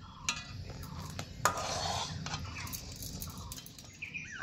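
A spoon stirs a sweet milk mixture with added powder in a pot on the stove, giving scattered scraping and clinking against the metal, with faint birdsong chirping in the background.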